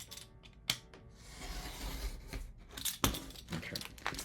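Paper is cut loosely by hand, making close, irregular snips and crisp rustling clicks that come in uneven bursts with no talking.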